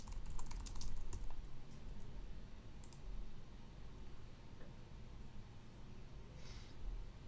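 Fast, continuous typing on a computer keyboard, a dense patter of close key clicks with a few louder taps, heard alone without talk.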